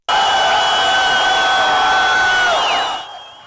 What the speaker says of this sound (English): Cheering crowds greeted buses of freed Palestinian prisoners in the West Bank city of Ramallah and the Gaza Strip.